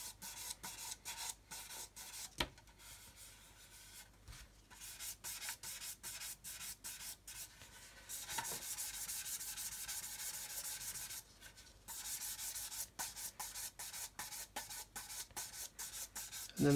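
Rhythmic rasping of a sanding sponge rubbed back and forth over a car body panel to remove sanding marks before buffing, close and fairly quiet, with short pauses between passes.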